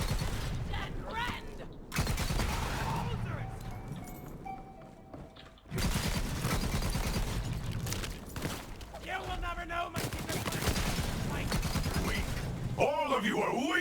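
Rapid bursts of Jakobs gunfire in Borderlands 3 crackle amid busy game combat noise, loud and dense across most of the stretch with a brief lull partway, while a voice talks over the action.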